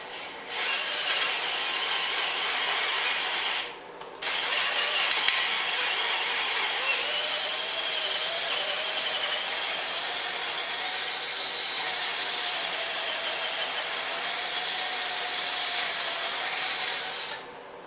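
A small 1/4-inch drill bores steadily into a lock, giving a continuous high grinding whine that runs for most of the stretch, broken by one brief pause early on before the drilling resumes.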